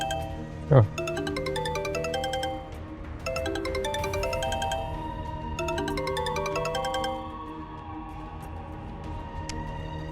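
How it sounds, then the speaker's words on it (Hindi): A phone ringtone plays a repeating melodic chime in several bursts, with quiet voices in the background. "तुम्हारा फोन बज रहा"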